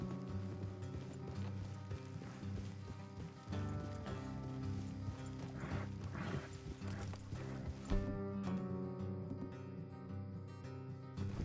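Horse hooves clip-clop steadily under a dense bed of music, continuing throughout with no voices.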